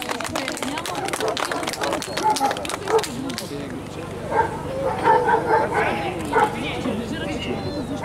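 Dogs bark in short sharp bursts at an outdoor dog show demonstration of protection training in Bulgaria, with loud barks at the start easing to scattered yips and whines under ongoing talk and crowd murmur.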